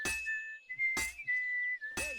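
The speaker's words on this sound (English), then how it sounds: "Sometimes I'll whistle to myself to keep the rhythm going" A blacksmith whistles a rhythmic tune, long sustained notes broken by three sharp metallic clinks of hammering, set in the video game Kingdom Come Deliverance II; close and clear with no talking.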